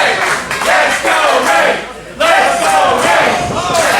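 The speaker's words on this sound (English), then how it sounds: "Some fans also cheering for Miggy Rose." Wrestling fans at a live show roar and cheer as a crowd, a loud, continuous wall of voices that swells and briefly dips midway before surging back.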